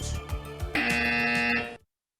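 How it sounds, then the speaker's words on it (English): A loud, steady electronic quiz buzzer blares for about a second after some brief clattering, then cuts off into silence. "Shubrata from Novartis, first on the buzzer."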